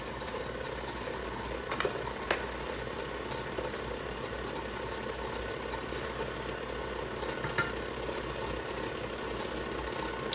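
An electric mixer beats hot milk cake batter for an old-fashioned cake, giving a steady whirring motor hum that runs through the whole stretch at moderate, even volume with a couple of faint clicks.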